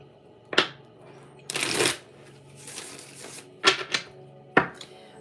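Tarot cards being shuffled in several quick riffling bursts, close and fairly loud, separated by short pauses, with no talking.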